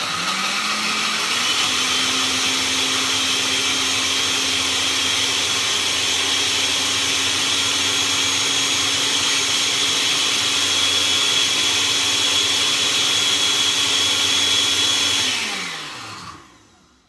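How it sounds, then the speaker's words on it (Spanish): A blender grinding Maria biscuits whirs loudly and steadily for about fifteen seconds, its motor pitch holding constant, then winds down and stops. "Y lo vamos a moler en la licuadora"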